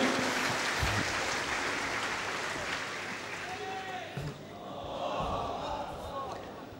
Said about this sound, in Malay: kita bagi tepukan gemuruh kepada semua panelis kita